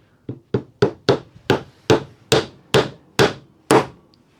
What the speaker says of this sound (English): So I'm going to hammer this in.